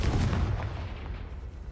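A Confringo blasting spell explodes in Hogwarts Legacy as one loud, deep boom that decays over about a second and a half, heard alone with no talk.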